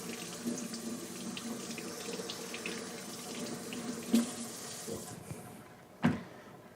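Tap water runs steadily into a kitchen sink as something is rinsed, a continuous close hiss with a couple of brief clunks near the end.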